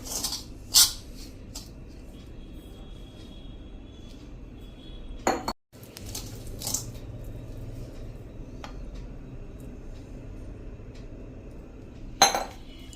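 Sparse metallic clinks from an iron wok ring out a few times, seconds apart, against a quiet room hum.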